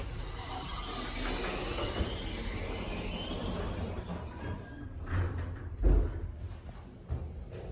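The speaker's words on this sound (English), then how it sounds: "let's close the door." A Thyssenkrupp Aurora hydraulic elevator door at a Holiday Inn Express slides shut with a long steady hiss, then a few dull knocks and a firm thud as it seals, close by with no talking.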